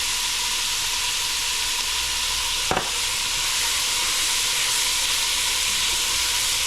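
Onions sweating down in a pan with a pinch of salt and pepper give a steady, close sizzle and hiss that runs unbroken throughout, with one brief clink partway through.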